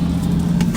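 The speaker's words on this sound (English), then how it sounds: "Oh, that revving that engine just gets me so excited." A car engine revs loudly and close by, a steady low rumble with brief rises in pitch on a cold morning, heard alone without any talking.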